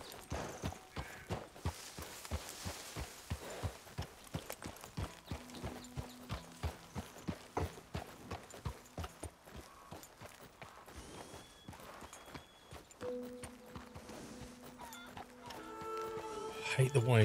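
Horse hooves clip-clop at a slow, restricted walking pace in a camp in Red Dead Redemption 2, a steady rhythm of close hoofbeats running under talk and game sounds.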